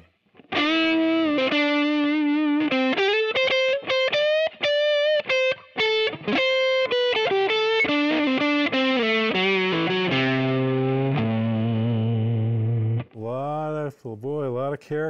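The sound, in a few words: Gibson Memphis ES-335 electric guitar with distortion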